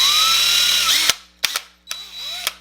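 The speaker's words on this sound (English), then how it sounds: "if we drill too far, we're going to end up poking right through the hood" A power drill bores into the die-cast metal hood of a Hot Wheels toy car, a whining run near and loud that stops abruptly, followed by several short bursts of drilling.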